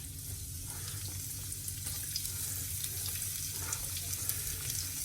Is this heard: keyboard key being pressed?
no